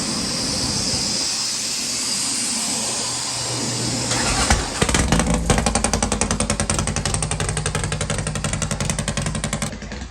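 A 2008 Harley-Davidson Road Glide Twin Cam with a 110 kit, S&S heads and a ThunderHeader exhaust without baffle is on a dyno. After a steady hum it barks to life and settles into a loud, close, rapid lumpy idle.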